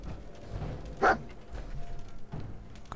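A single short dog bark in Fallout 4, heard once near the start over quiet game ambience and soft thuds.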